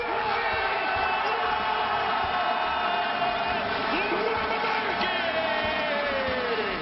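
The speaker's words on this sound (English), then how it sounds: "all those people cheering, they're cheering for a game that just came out in June" Large arena crowd cheering at a Blizzcon 2015 esports match, a steady dense roar of many voices with whoops rising above it, continuous and loud throughout.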